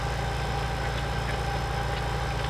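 A low, steady Massey tractor engine idle in Farming Simulator 17, with a rhythmic mechanical thrum and faint whine, unchanging and continuous, no speech.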